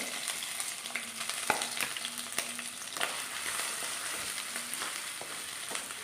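Crushed ginger and garlic fry in hot oil in a pan for a pork roast, giving a steady, close crackling sizzle with a few sharp clicks and scrapes of stirring. No one speaks.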